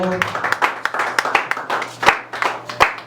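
A church congregation claps in a steady rhythmic beat, moderately near, with a sung or spoken voice carrying under the clapping.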